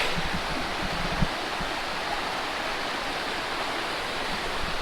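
A mountain creek at a lake campsite rushes steadily, a dense, unbroken hiss of flowing water heard up close with no voices over it.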